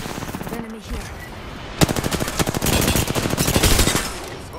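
Gunfire in Apex Legends crackles in a rapid automatic burst after a brief lull, loud and close, with sharp repeated shots continuing for several seconds.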